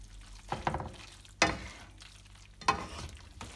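Soft wet squelching and stirring of egg sauce being mixed by hand, with three sharper squishy bursts amid quieter mixing noise, close and fairly faint.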